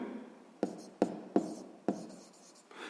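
Pen or marker writing math on paper or a board, with several sharp taps and short strokes spaced unevenly over a faint background hiss and no talking.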